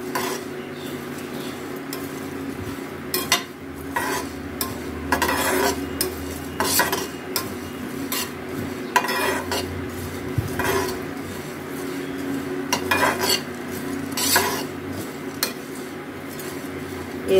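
Cumin and black pepper dry-roasted in a pan over low heat, recurring scrapes and light clinks of a spoon against metal over a quiet background hiss, close and steady for several seconds.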